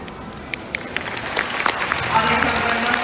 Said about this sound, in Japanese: 会場の皆さんにも手拍子お願いしたいんですが